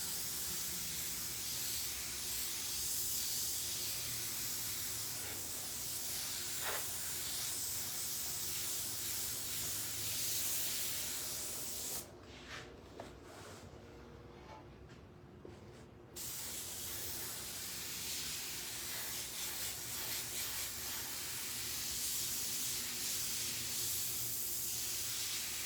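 An airbrush sprays paint onto a shirt in a steady, close airy hiss that runs almost continuously, cutting out briefly to a quieter pause midway before resuming.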